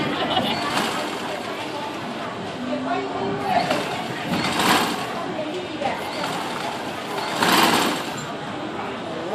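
A sewing machine stitching a shirt collar runs in short bursts of whirring, rising and falling in loudness, while someone talks throughout close by.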